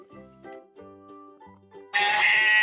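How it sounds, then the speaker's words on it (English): A mother sheep and her lamb bleat on a farm, several short separate calls followed by one loud sustained bleat close to the microphone. "Lamb is a baby sheep."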